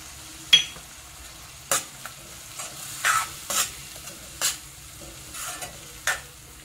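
Cashew paste goes into the pan for a chicken kofta curry, sizzling softly in oil while a spoon scrapes and stirs in a series of distinct strokes, close and alone without talk.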